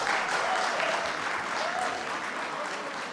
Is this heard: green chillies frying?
no